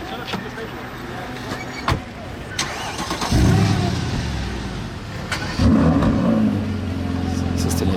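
Mercedes Black Series cars and an MG GTR start their engines and pull away on a Paris street, with two engines firing almost together. Sharp ignition bursts give way to rising revs, mixed with people talking nearby.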